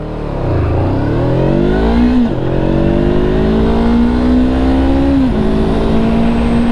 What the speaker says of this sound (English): just going to do a quick 0 to 60 in my favourite place